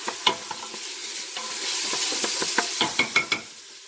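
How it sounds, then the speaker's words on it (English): Onions sauté in a pot of oil for a keto sausage lentil soup, a close steady sizzle with repeated knocking and scraping stirs that grow busier toward the end, with no talk. "the onions are sauteing"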